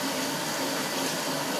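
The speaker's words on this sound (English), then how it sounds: "We'll just run the ice water on them, real cold water, ice cold." Ice-cold tap water runs steadily over a batch of cooked, curled shrimp in a sink, a close, even rushing stream with no pauses and no voices.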